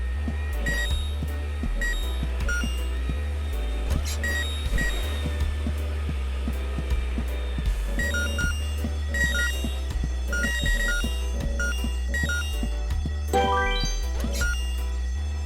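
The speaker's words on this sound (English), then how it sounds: "The ear-splitting sound was the fire alarm." Fire alarm ringing in the video game Horace, a loud, steady electronic tone repeating in short bursts over busy game music and sound effects, with no talk.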